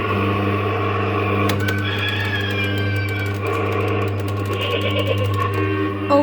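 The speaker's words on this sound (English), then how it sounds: "is a Troy the Tractor kiddie ride by Jolly Roger." A 2000s Jolly Roger Troy the Tractor coin-operated kiddie ride runs with a steady mechanical hum. Faint tones and light rattles sit over the drone at close range.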